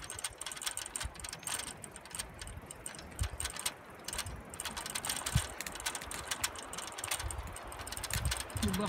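A bicycle freewheel ticks in a fast, steady ratcheting patter during a ride through open countryside, faint and continuous with soft rustling beneath.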